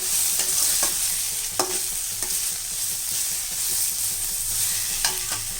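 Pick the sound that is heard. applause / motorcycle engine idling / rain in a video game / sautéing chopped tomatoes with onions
sautéing chopped tomatoes with onions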